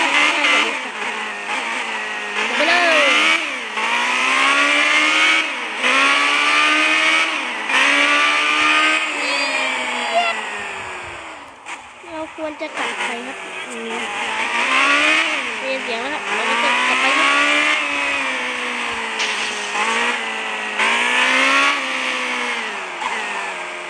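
A Ferrari used as a food-delivery car, driving with a loud, continuous engine note that rises and falls through repeated revs and gear changes, briefly easing off midway before building again, with someone talking over it.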